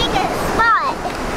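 A wave washes up the sand at a beach near a sandcastle, a steady close rush of surf with a brief swell, while people talk over it.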